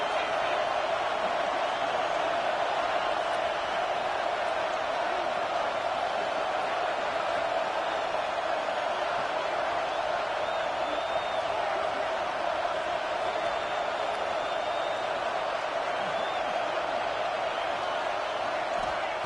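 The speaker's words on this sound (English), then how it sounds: "Listen to the crowd energy here in the early going." A stadium crowd at a football game roars steadily and loudly throughout, a dense, continuous wall of cheering in a hostile road environment, with a commentator's voice faintly over it.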